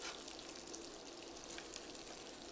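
An ingredient for carbonara fries and melts in a pan with a faint, steady crackling sizzle and fine popping throughout, no talking.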